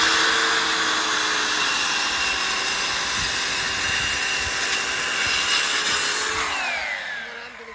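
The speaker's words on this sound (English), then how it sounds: "he's gonna cut a bunch of lines that are sort of close together" A saw cuts a series of closely spaced lines into wood during construction of a milking parlor and feed storage barn. A continuous, close, loud whining drone holds steady, then winds down near the end, with no talking.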